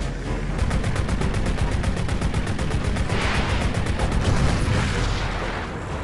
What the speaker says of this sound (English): ranging from machine guns, cannons, rockets, missiles, etc., with your primaries having infinite ammo, but can overheat